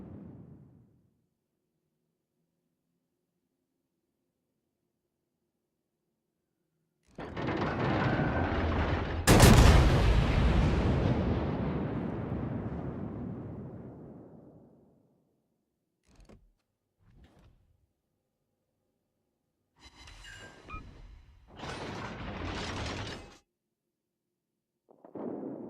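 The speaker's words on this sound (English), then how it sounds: "Fire on the enemy warship." Heavy warship gun salvos in World of Warships, a cruiser Zao in play: a loud booming blast with a long rumbling decay, followed by a few fainter shots and distant firing later on, no talk.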